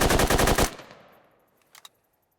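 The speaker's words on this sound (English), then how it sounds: "You can single fire it just by tapping. And you can also hold in for full auto." Rifle firing a rapid full-auto burst in the Squad video game, loud and close, about a dozen fast shots in under a second, then a fading echo and a faint metallic rattle.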